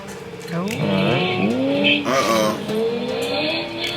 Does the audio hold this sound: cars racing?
yes